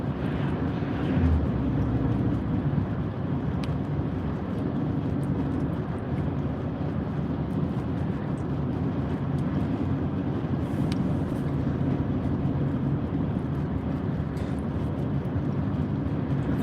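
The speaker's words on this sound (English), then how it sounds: "Here comes a train on the left, coming through the snow." A loaded freight train hauling lumber rolls past through snow during an arctic cold outbreak in Tulsa, Oklahoma, a steady continuous rumble that holds loud and unbroken from start to finish with no talking.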